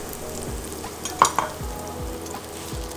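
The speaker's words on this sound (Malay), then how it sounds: "Kita tumis dulu bawang merah pula, bawang Holland." Shallots, onions and garlic sizzle and fry in a pan, a steady close crackle broken by a couple of scraping stirs and a light clink of utensil on metal.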